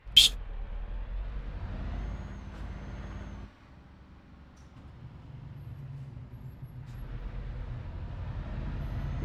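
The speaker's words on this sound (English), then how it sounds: "handbrake on." The truck's handbrake is set in a truck simulator, giving a sharp, short pneumatic hiss of air brakes at the start, then a steady low diesel engine idle rumbling throughout.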